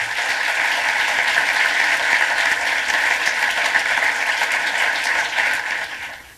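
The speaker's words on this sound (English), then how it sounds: "Let's give Mr. Bruni another round of applause." An audience at a college talk by a New York Times columnist gives a strong, dense round of applause, loud and continuous for about six seconds before tapering off at the end.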